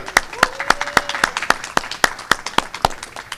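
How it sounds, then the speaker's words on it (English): Scattered applause from a small crowd at a restaurant reopening celebration, with distinct, fairly regular claps sounding close and clear over a faint background tone. "Quick round of applause."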